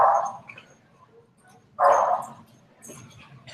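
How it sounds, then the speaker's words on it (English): A female dog gives two sharp, shrill barks during a play session with another dog, the first at the start and the second loud one about halfway through, with quieter yips and whimpers between them over low background noise. "She just has this really shrill bark that turns the other dog off."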